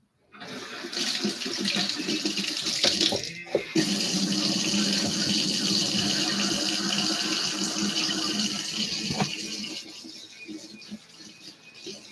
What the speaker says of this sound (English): Come on, hot water.